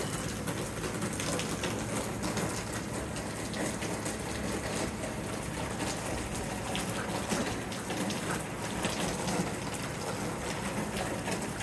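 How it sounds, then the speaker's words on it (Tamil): Heavy evening rain pouring down without a break, a dense, loud hiss like gushing water that fills the whole stretch, with no voices over it. "பாருங்கள் சூப்பராக மழை பெஞ்சிட்ருக்கு."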